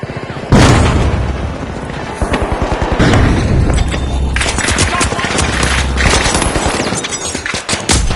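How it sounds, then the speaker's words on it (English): A frag grenade blows up in the video game The Finals, a loud booming blast followed by rapid bursts of gunfire and further explosions, with an excited commentator talking over the action. "They're tossing the frag!"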